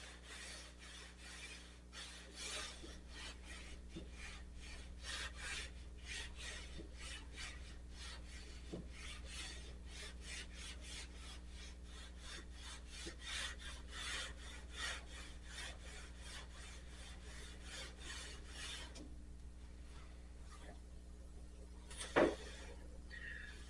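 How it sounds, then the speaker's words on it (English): Wet sanding car paint by hand with sandpaper on a Corvair, a steady run of quiet, rhythmic rasping strokes close by, easing off near the end before one sharp knock. "You want to keep the sandpaper clean."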